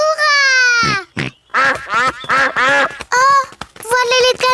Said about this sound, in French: Oh, voilà les canards.